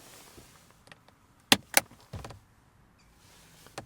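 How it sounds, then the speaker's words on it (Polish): The damped glovebox lid of a Lexus LS400 is opened in the cabin, giving a few soft clicks, then a pair of sharp latch snaps and a short muffled thud as the lid swings down, close and quiet. "Schowki z tłumikami spowalniającymi mają wpływać na odczucia jakości, a także luksusu"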